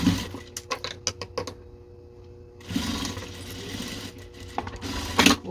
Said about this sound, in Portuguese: E faço a costura de fora a fora.